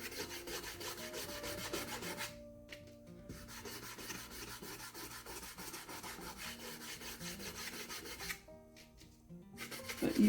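A cloth rubs Heirloom Traditions gel stain into an old wooden box in quick, rhythmic scrubbing strokes, close and fairly quiet, with two short pauses.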